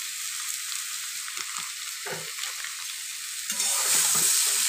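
A papaya and potato curry with turmeric, salt and cumin powder being stirred in a pan, giving soft scraping and sizzling sounds under a steady frying hiss.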